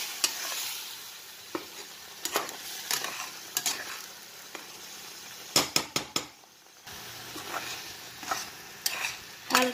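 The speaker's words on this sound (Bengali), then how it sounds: "হালকা আস্তে আস্তে নাড়াচাড়া একটু করে" A spoon stirs ground spice paste slowly into chicken curry in a pan with little oil. Soft scraping and gentle sizzling continue throughout, broken by several sharper clinks against the pan, and no one speaks.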